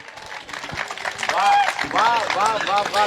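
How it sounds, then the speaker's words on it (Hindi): An audience at a Rajasthani comedy poetry show breaks into clapping, a dense patter of applause rising from soft scattered claps to a loud, sustained burst mixed with crowd noise. "समझ में आ गई तो ताली वाली बजाओ।"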